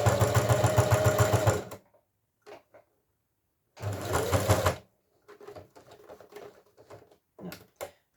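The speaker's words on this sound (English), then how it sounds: "Now, needle in, and we're going to start sewing." A sewing machine stitches a boxy zipped pouch in two loud, close bursts of rapid whirring, each lasting about a second or two. Quiet handling clicks and rustles fill the pauses between them.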